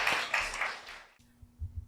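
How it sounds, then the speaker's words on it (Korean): Scattered applause from a small church congregation, fading after about a second, followed by a brief quieter stretch with low rumbling. "환영의 박수 드릴게요"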